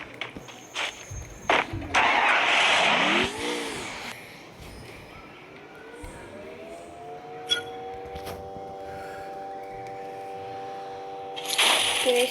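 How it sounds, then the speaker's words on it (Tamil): A car in the video game Free Fire, heard as a short engine start that settles into a steady, rising drive tone, with brief clatter and scraping early on and no talk. "வெயிட் பண்ணி கார் எடுத்துட்டு போய்."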